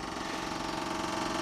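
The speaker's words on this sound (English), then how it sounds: "now that motor sounds good" A John Deere 9600 combine engine runs at a steady idle, close and continuous, with a dense mechanical rumble and no talking.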